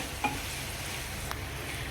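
A spoon stirs salt into jackfruit biryani masala in a pan. The quiet scraping and soft sizzling are broken by two brief utensil clinks, with no talk.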